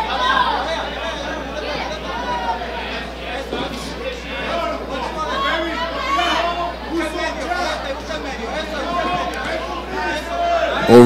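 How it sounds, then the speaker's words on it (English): Crowd at a professional boxing main event, a 135-pound bout between Ramesis Gil and Manny Perez, cheers and chatters with delight in a continuous loud babble of many voices, close and dense throughout. "Crowd shows their delight at the evasive maneuvers of Perez."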